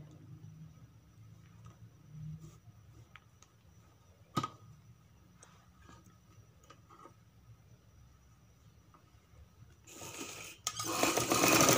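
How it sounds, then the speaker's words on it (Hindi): Domestic sewing machine stitching cloth as a sleeve piece is attached to a garment, a quiet steady mechanical run with faint ticks and one sharp knock, ending in a louder burst of noise. "इस तरह हम इसे सिलाई लगाते जाएंगे"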